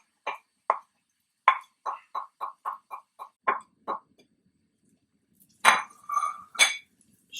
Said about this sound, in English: Stir things around a little bit.